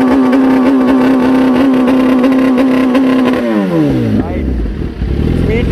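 A Kawasaki ZX-10R sport motorcycle holds a steady high rev on launch control, then drops off as it pulls away, loud and close, with a voice talking over the engine.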